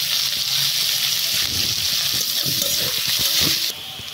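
Chopped onion goes into a hot pan of oil while cooking hilsa fish head with taro greens, giving a steady, close hiss of frying with faint scraping that drops off slightly near the end.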